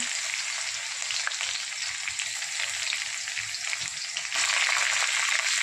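Cumin seeds, curry leaves and garlic crackle and sizzle steadily in hot oil for a Marathi-style spring onion and chana dal dish, a dense close frying hiss with no talking, growing slightly louder near the end.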